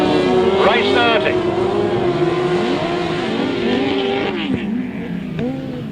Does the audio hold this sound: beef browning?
no